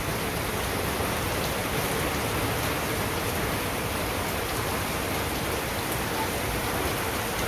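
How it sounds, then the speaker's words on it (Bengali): Rain falls steadily with wind in a Bangladeshi village, a dense, even hiss of drops on surfaces that stays unbroken and fairly loud throughout. "যেরকম বাতাস ওরকম বৃষ্টি।"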